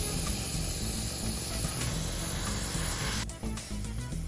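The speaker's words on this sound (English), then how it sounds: "if you're using an airbrush" Airbrush spraying grey shading paint onto rocks in a safari water-hole diorama: a steady, close hiss running unbroken for about three seconds, then briefly cutting out and resuming a little quieter.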